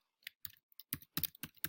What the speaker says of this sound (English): here's where I do my typing